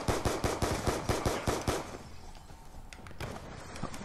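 Rapid automatic gunfire in a Call of Duty team deathmatch: a close, loud burst of about a dozen sharp shots in quick succession, then quieter scattered shots and game ambience.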